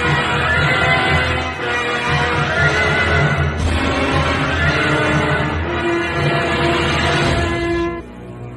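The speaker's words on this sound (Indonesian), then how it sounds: "Jadi Sawung Songo justru berkuda dengan Galuh Titis" Horses neigh and whinny loudly in an audio drama scene, with a long drawn-out call followed by further whinnies over a dense, busy backdrop that fades out at the end.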